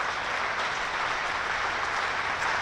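A cricket crowd applauding a batsman's century at a county match in Hampshire, a dense, continuous roar of clapping from a large gathering heard at a distance, steady and unbroken throughout.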